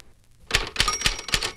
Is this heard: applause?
no